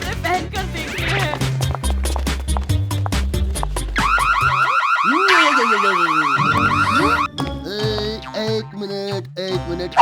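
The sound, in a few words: alarm sounding in cartoon mall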